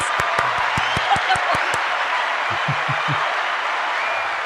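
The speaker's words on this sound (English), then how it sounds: "My first applause." Applause at a live tech news show taping, steady clapping from a small studio audience that carries on throughout, with a few voices and brief chatter beneath it.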